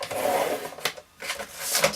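A scoring tool drags across cardstock for a handmade card, two brief scratchy strokes up close, split by a short pause.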